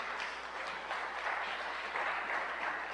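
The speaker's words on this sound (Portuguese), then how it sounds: "Desejar aplaudir ao Senhor, pode aplaudir, tá, irmãos?" A Baptist church congregation at a family service applauds steadily for the whole stretch, a dense and even roar of many hands clapping together with no break.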